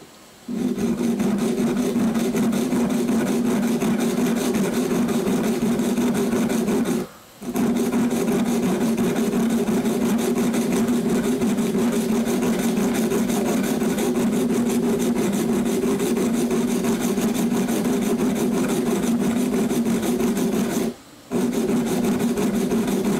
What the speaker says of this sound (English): So, the sharpening stone here, I can get my angle figured out here